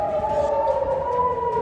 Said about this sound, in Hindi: इस्राएल में बड़े पैमाने पर सायरन बज उठे।